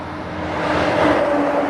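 A car goes by on an open road in Western Australia, a brief rising whoosh of tyres and engine that swells to its loudest about two-thirds of the way through, with no voices.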